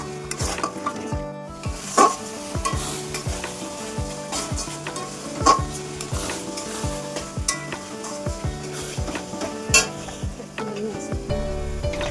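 Tomato paste sautéing in a pan with a bright, steady sizzle, the spoon scraping and knocking against the pan in irregular strokes, close and clear, with no talking.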